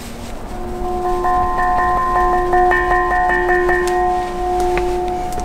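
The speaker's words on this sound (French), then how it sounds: "Et puis celle-là, c'est la petite cloche." A small church bell of the Collégiale de Vitry-le-François rings repeatedly in a quick, steady rhythm, bright tones layering over a lingering hum, clear and fairly close.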